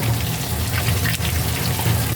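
Liquid poured into a cooking pot of deboned chicken feet, a steady close gush and splash lasting a couple of seconds with no talking.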